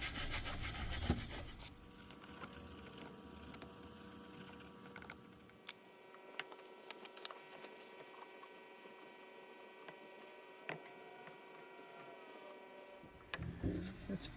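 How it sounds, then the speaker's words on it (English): A soft nylon brush scrubs crud off the top of a Kamplite lantern held in a vise, making quiet, close, irregular rubbing and scratching strokes with a few knocks. "This is a soft nylon brush. Just hit it. Get some of this crud off the top."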